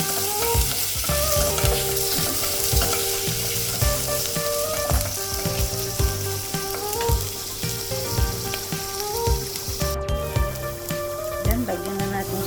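Chicken balls and soup ingredients fry and get stirred in a pan for misua soup. A loud, continuous sizzle runs under repeated scraping and clinking of the utensil. Close, with no speech.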